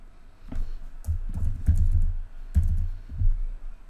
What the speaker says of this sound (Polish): wpisujemy swój e-mail lub login